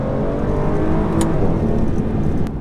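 An Aston Martin DBS engine drones loudly and steadily from inside the car while driving at light throttle, a continuous close rumble with faint higher whirring.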